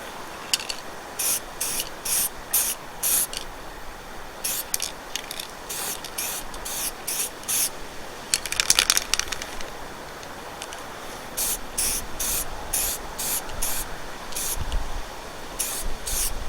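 An aerosol spray can lays another coat of paint on a newly made part for a Bedford truck, with many short, close hissing bursts in a steady rhythm, some longer sprays mixed in, over faint background noise.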